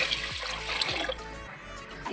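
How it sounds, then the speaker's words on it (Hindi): Water poured into a cooking pot of rice, peas and fenugreek, a steady splashing pour running for about a second and a half before easing off. "अब इसमें पानी थोड़ा डालेंगे।"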